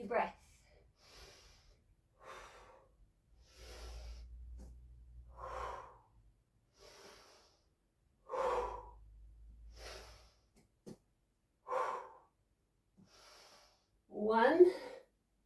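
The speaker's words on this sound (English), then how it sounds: "Really connect the movement with your breath." Breathing in and out in time with yoga-inspired calisthenics movements: a slow series of audible inhales and exhales through nose and mouth, close and fairly soft, with a few louder gasps and low thumps of movement in between.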